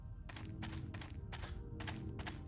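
An item dropped to the ground in the sci-fi game Space Hack, heard as a series of dull, fairly close thunks, about six in quick succession over a steady low background.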